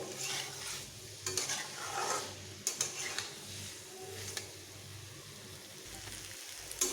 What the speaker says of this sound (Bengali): এইভাবে নাড়তে হবে একটু ভালোভাবে কষিয়ে নিতে হবে